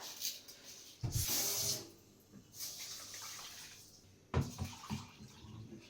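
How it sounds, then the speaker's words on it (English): Parboiled rice washed in water in a pot while making Banga rice, with bursts of sloshing and splashing water, a strong surge early on and another near the end, fairly close and loud, no talking. "My rice has already parboiled, so now I have to wash it immediately."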